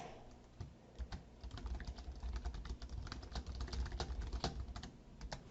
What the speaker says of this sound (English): I can type right in that box.